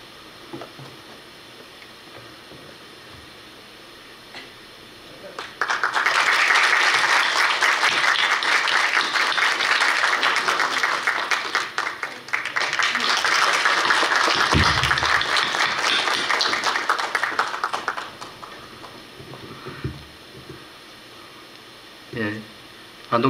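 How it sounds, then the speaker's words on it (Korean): Vigorous audience applause at a Korean graduate school entrance and dean inauguration ceremony, a loud, sustained wave of clapping that swells, briefly eases mid-way, then returns before dying out into a quiet hall. "대학원기가 전달될 때 힘차게 박수 부탁드리겠습니다."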